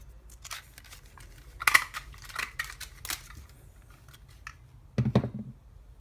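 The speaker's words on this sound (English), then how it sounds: "I'm simply going to line it up and cut it out" Scissors cut out a stamped paper piece for a fox spinner card: several close, crisp snips at irregular intervals, with a louder double cut near the end and quiet pauses between.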